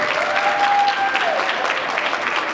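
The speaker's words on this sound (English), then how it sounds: "Give him another round of applause." An audience at an opening ceremony in the Citadel Theatre applauds the mayor, with dense, steady clapping from a large crowd that lasts throughout, loud and continuous.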